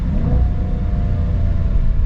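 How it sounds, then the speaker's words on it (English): A Jaguar F-Pace SVR with a supercharged 5-litre V8 accelerating hard, giving a loud, steady, close engine roar with deep rumble that holds throughout with no talk. "you can't beat a supercharged 5-liter V8"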